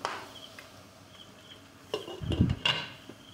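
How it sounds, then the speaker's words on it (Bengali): Beef bhuna cooked with mustard oil and whole garlic is stirred in a pot, with a few soft scrapes and clinks of a spoon against the metal, louder near the end. "ভালো করে নেড়ে চেড়ে নেব।"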